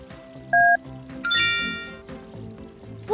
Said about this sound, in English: press the numbers on the phone to call him